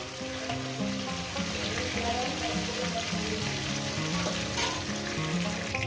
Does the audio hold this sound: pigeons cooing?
no